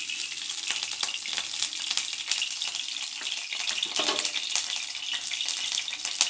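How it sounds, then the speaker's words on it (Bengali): Mustard oil heating in a wok for marinated rohu fish, a steady bright hiss and crackle running continuously and fairly close, with no one talking. "এবারে কড়াতে তেল দেব"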